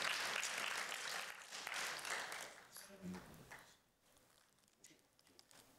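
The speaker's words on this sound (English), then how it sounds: "We can clap for that." Church congregation claps during a sermon, broadband applause filling the first few seconds and then thinning out to a few scattered claps.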